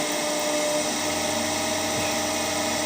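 Electric motor with a field rheostat running up to its rated 1500 RPM, a loud steady whine and hum holding constant throughout, with no voices.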